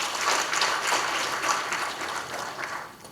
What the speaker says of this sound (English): I think you must clap for your families.